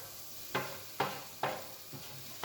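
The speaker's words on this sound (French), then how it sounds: "Donc là, je fais revenir mes oignons" Small onions sautéing in a pan sizzle under a steady hiss, with five quick spatula strokes making bursts of crackle in a regular rhythm, close and without talk.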